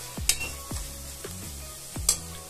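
Onion frying with ginger-garlic paste in a pressure cooker while chicken curry is made, giving a steady soft sizzle with a few scraping stirs and light clinks of a spoon against the pot.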